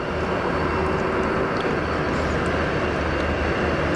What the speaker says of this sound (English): Good old PC-12.